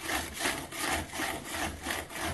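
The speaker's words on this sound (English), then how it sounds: "this is just, you know, pretty fine grit belt sander" An old belt sander with a fine-grit belt runs steadily, its abrasive rasp swelling and easing in a regular rhythm about twice a second, close and fairly quiet with no voices.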